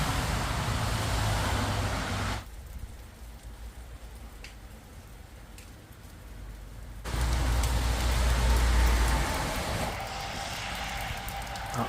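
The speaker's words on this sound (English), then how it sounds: "Rain's not easing off, folks. Still lashing down." Heavy rain lashes down during a storm camp under metal steps, a loud, constant hiss that eases for several seconds in the middle, then surges back with deeper rumbling.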